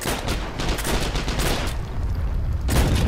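Gunfire in the Heroes and Generals war game comes as a loud, dense burst of rapid shots, a short pause and then another burst at the end, with no talking.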